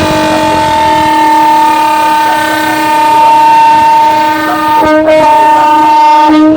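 A Thai railway diesel train leaving the station after the signal holds a loud, steady horn blast with layered tones for several seconds, then a short break and a second blast over rumbling railcars.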